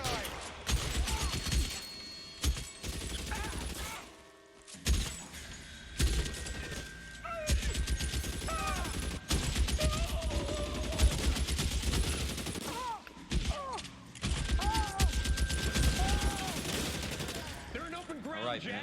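Gunfire in the crime game L.A. Noire crackles in rapid, repeated bursts and scattered single shots, loud and close, mixed with shattering impacts while voices shout over the shooting.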